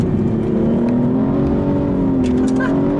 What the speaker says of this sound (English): It's an absolute event putting this thing in second and coming out of a corner flooring it.